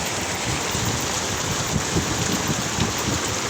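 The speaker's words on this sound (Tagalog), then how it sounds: "bigla na namang bumuhos yung malakas na ulan" Heavy rain pouring down steadily, a dense continuous hiss of drops drumming on surfaces, with no voices.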